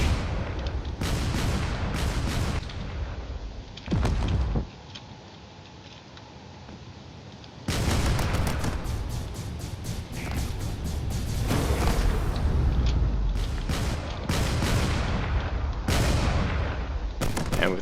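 Heavy ship weapons fire in the space video game Drone Wars, dense bursts of booming shots and rapid blasts that fill the soundscape, with a brief lull in the middle before the barrage resumes loudly.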